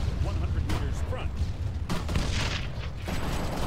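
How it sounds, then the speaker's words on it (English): Gunfire in ARMA 3 combat, several loud sharp reports and booming bursts popping irregularly over a constant low rumble, with squad radio chatter mixed in. "Ooh, gunfire."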